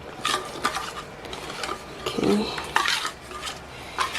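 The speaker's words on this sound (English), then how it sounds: "Then you're gonna start mixing" Custard made from custard powder being stirred in a pot, repeated metallic spoon scrapes and clinks against the sides at an uneven rhythm, close by, with a brief spoken word.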